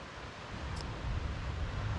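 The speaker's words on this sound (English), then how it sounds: "capture the incredible white noise that we're living in while we're on this trip with those waves crashing" Ocean waves break on the shore on the West Coast Trail, heard from inside a tent: a soft, steady wash of white noise with a low rumble that swells slightly toward the end.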